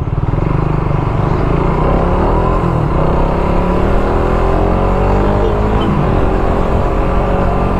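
A motorcycle rides out onto a highway on a test ride fitted with a UMA Racing spark plug, its engine droning loud and steady throughout, with rising and shifting pitch as it accelerates and no talk.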